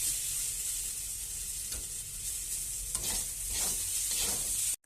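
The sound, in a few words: peanuts added and frying in a pan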